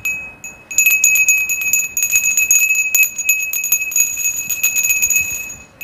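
A bright notification bell chimes repeatedly for a subscribe reminder, ringing steadily and clearly for several seconds with a jingling, tinkling quality and no voice over it.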